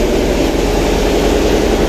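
The engine of the passenger launch Manik 11 runs inside its engine room, a loud, steady, low droning rumble that fills the space without a break.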